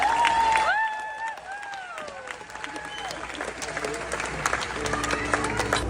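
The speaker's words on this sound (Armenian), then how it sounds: "Ծափարություններով" Audience applause at a televised Armenian talk show, a dense patter of clapping from a crowd that swells after some whistling tones and voices at the start and carries on to the end.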